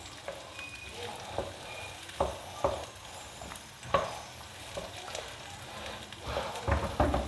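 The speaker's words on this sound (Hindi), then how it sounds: "मैंने इसको 10 मिनट फ्राई करना है ताकि ये मटर और गाजर थोड़ी सॉफ्ट हो जाए" Carrots and peas frying in a pan, a steady soft sizzle with occasional stirring scrapes and clicks, fairly close and moderate in volume, no talking.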